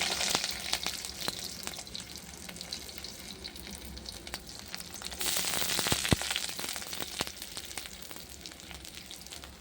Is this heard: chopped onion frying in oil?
yes